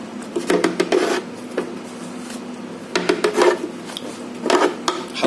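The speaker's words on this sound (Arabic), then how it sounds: "هنجيب الايس كريم بتاعنا الفانيليا وهنحطه في الخلاط" Vanilla ice cream is scooped into a blender at home, producing several short scraping and rasping bursts in an irregular rhythm, close and moderately loud, with quiet pauses between them.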